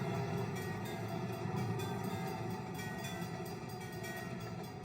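A 269 diesel train in the Trainz 2009 game rumbles along steadily, a continuous loud engine and rail drone with faint rhythmic clatter and no voices.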